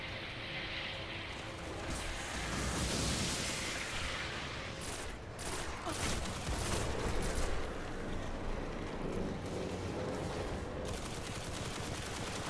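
Sustained weapon fire from a fusion rifle in Destiny during a blind raid, steady loud bursts with charged crackling layered over continuous game noise, no voices.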